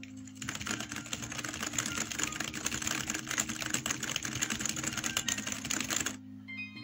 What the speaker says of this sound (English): Here's my keyboard that came with my gaming PC